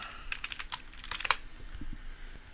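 Quick keystrokes on a computer keyboard as terminal commands are typed into a Raspberry Pi: a short, uneven flurry of close clicks and taps, fairly quiet.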